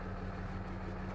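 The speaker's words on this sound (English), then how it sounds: "You might be able to hear the truck idling behind me." A truck engine idles steadily in the background at Viera Wetlands, a continuous low rumble with a faint, even hum and no talking over it.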